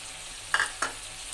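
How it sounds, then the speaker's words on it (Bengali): Pieces of chicken meat drop into hot oil that has been cooked down with spices, giving two short, close sizzling bursts before the pan settles back to a low hiss. "আমি এখন মাংসটা দিয়ে দেবো।"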